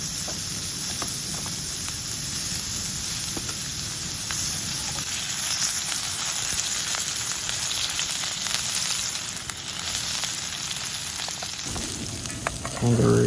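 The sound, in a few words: kangaroo steak frying in garlic infused oil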